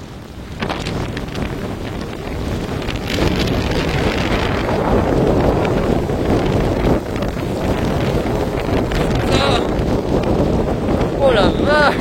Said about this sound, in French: Oh, les rafales qui arrivent.